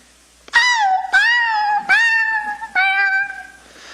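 Human voice imitating a three-legged cat screaming: four drawn-out, meow-like wails in a row, close and clear, with brief pauses between them.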